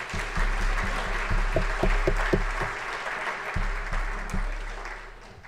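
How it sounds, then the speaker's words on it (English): Applause from a graduation audience at John Carroll University, moderately loud and continuous, with low rhythmic thumps running underneath. "I'd really like to give those guys another round of applause for all the efforts they put in"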